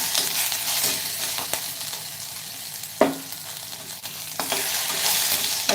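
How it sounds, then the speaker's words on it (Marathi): Potatoes sautéing in a pan for a cauliflower-potato curry, a steady sizzle broken by scraping stirs, with one sharper scrape midway and a few clicks of the spoon against the pan. "ज्या पद्धतीने आपण फ्लावर परतून घेतला ना तशाच पद्धतीने आपल्याला बटाटेसुद्धा परतून घ्यायचं आहे"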